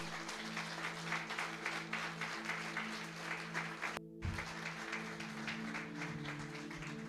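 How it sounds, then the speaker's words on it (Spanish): Congregation in a church applauding strongly, a continuous dense patter of many hands over a sustained organ or keyboard chord, with one brief drop in the clapping partway through. "Dale un fuerte aplauso, sí."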